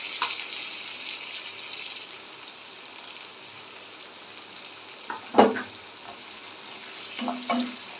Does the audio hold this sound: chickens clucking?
no